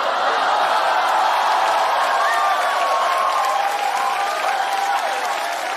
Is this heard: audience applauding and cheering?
yes